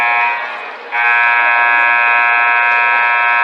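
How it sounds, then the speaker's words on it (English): A loud, sustained electronic buzzer blares at a boys' high school basketball game. It dips briefly, then holds steady at full volume for several seconds, with no talk over it. "I think somebody likes to play with the buzzer."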